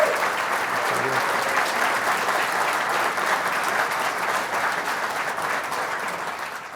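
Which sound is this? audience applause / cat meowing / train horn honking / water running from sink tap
audience applause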